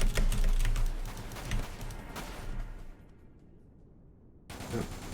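Rapid bursts of video game gunfire from Dirge of Cerberus: Final Fantasy VII crackle in quick succession, fairly quiet, with the shooting thinning out midway before a short resumption.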